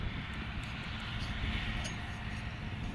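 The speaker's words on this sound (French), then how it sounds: "Ainsi équipé, l'avion retourne à l'aérodrome." An electric airplane flies near an aerodrome, giving a steady, loud broadband drone that holds evenly throughout with no talking.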